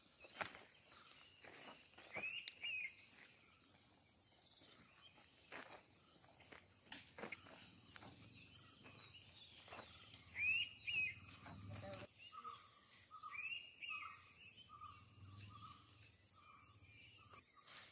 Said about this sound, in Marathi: थोडंसं शांत व्हा आणि पक्ष्यांचा आवाज ऐका, डोंगर बघा